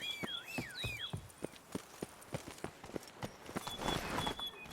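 Horse hooves trot at an even pace in The Witcher 3: Blood and Wine, a crisp, rhythmic clip-clop of about a dozen close hoofbeats, with brief musical tones from the game.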